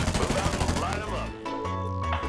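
Automatic gunfire in the FireFront mobile shooter game, a fast rattling burst in the first second that fades into mixed game noise, with voices talking over it.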